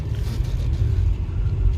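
A 2020 Acura MDX with a 3.5 engine accelerates on the road, giving a brief, steady low rumble heard from inside the cabin, with no talking.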